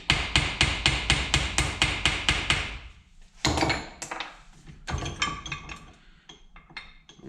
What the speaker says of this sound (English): tap this down with a socket. And again, don't kill it, just tap it, it'll go